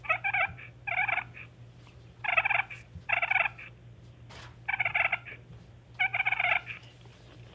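A hand-operated turkey call imitates a hen's purr in six short, rolling bursts separated by pauses, crisp and close over a faint low hum.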